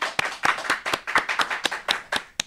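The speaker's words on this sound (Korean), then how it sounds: "큰 박수로 환영해 주십시오" A small studio audience claps to welcome lawmaker Lee Sang-min onto a Korean political talk show, a quick run of distinct, evenly spaced hand claps heard close up.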